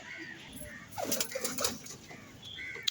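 Pigeons in a loft after feeding give soft coos and a burst of wing flapping and shuffling in the middle, fairly close but quiet, with a faint voice in the background.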